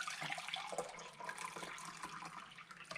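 Water poured into a pot while making brine for bread and butter pickles, a steady splashing rush that runs the full three seconds, close and fairly loud with no talking.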